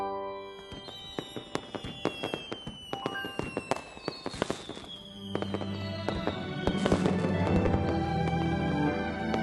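Fireworks set off as a birthday surprise, a rapid crackle of sharp pops and bursts with whistling streaks rising and fading, growing denser and louder toward the end.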